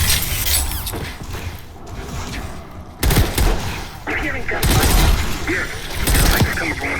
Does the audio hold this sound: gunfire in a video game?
yes